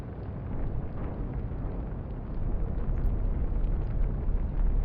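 Torpedo strike and secondary explosions in the naval combat game Atlantic Fleet: a loud, sustained low rumbling roar that swells slightly toward the end, with no talking.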